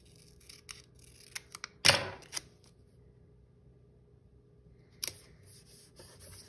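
Scissors trim planner paper with a sharp snip near the start and a second, quieter cut later, each a brief crisp burst in an otherwise quiet room.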